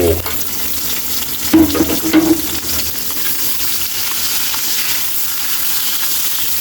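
Sliced onions hit hot oil in a pan for catfish adobo, giving a loud burst of sizzling with some stirring, which settles into a steady, close frying hiss.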